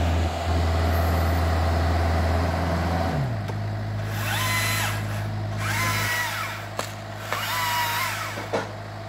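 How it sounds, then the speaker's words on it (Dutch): A Husqvarna electric saw cutting during municipal tree pruning, a steady loud motor whine that shifts pitch partway through, with heavy engine rumble underneath and a few sharp knocks near the end. "Elektrische zaag, Husqvarna."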